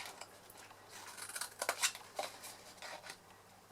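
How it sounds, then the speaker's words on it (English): Scissors snip through a small pocket tissue packet, cutting wedges into it: a few quiet, crisp snips and papery rustles close by, clustered in the middle, with no talking. "we're just going to slightly cut some wedges in them"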